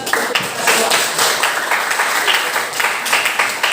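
A classroom of students claps together in a dense, fairly loud patter of applause that lasts a few seconds, with some voices mixed in.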